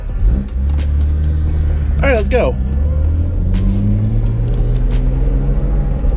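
A BMW 128i's engine drones steadily from inside the cabin while driving, a loud continuous low rumble with slowly rising pitch as it accelerates, while a person speaks briefly over it.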